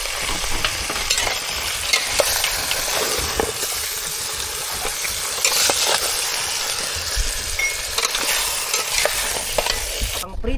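Food frying in a pan gives a loud, steady sizzle and hiss with scraping and clinking of a utensil as it is stirred, close and continuous throughout.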